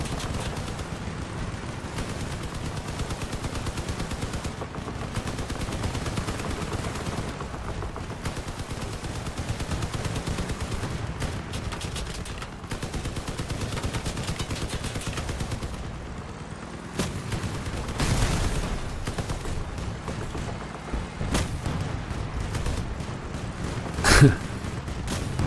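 In the vehicle combat game Crossout, machine guns fire at a vehicle in sustained rattling bursts that continue almost without a break, with a sharper louder shot late on.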